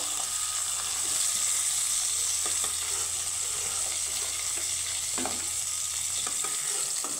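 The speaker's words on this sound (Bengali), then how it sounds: "দুই সাইডে আমি লাল করে ভেজে নেব মাছগুলো" Bata fish fry in a pan with a loud, continuous hissing sizzle and occasional clicks of a utensil moving them.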